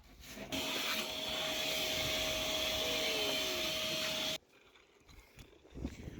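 A vacuum cleaner drones loudly with a steady whine for several seconds while cleaning out an old Ford Fairlane, then cuts off abruptly, leaving faint shuffling and knocks.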